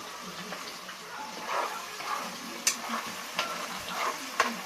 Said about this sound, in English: I'm just going to let it fry till it's kind of clear and have a good texture to it